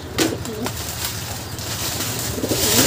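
A pet pigeon coos up close in soft, low, rolling calls that repeat through a steady hum of background noise.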